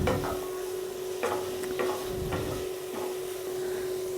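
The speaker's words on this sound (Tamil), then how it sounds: "இப்போ இந்த அளவுக்கு வறுத்து எடுத்துக்கலாம்." Spiced masala frying and being stirred in a pan over medium flame for paneer masala gravy, with a steady close sizzle and soft scraping strokes at intervals, no talking.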